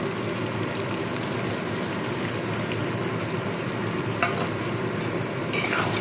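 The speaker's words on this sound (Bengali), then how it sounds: "খুব ভালো করে মিশিয়ে নিতে হবে" Boiled peas are stirred into potato and pumpkin ghugni in a pan, with a dense, continuous bubbling sizzle and a steady churning stir throughout and a couple of brief clinks near the end.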